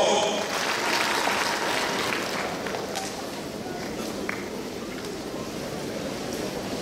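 A church congregation at a parish consecration and opening in Kisii claps for its priests, a dense, sustained round of applause from many hands that gradually softens, with some voices mixed in.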